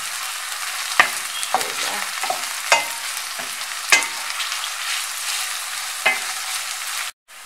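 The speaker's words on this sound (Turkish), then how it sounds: "Arkasına da biberlerimi. 5 dakikada bu da kavrulacak." Green peppers sizzle in a hot pan after onions, steady frying hiss broken by sharp clinks of a spoon stirring at irregular moments, fairly close, with a single brief spoken word.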